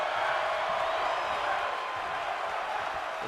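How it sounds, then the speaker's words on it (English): Wrestling video game crowd roaring in a steady, dense wash of noise, loud and continuous throughout with no distinct chant rhythm standing out. "The crowd is chanting one more time."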